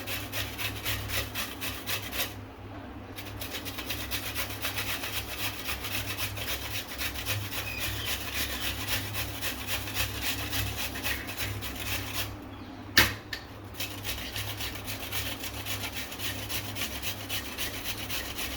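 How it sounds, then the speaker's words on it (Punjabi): Vegetables for kofta are rubbed against a kitchen grater in steady, rapid back-and-forth rasping strokes. The grating is close and continuous, broken by a couple of brief pauses and a single knock. "ਇਸ ਤਰ੍ਹਾਂ ਇਹਨਾਂ ਨੂੰ ਕੱਦੂਕਸ਼ ਕਰ ਲੈਣਾ"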